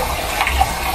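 A little water is poured into a cooking pot, giving a brief, steady splashing gush that runs for about a second.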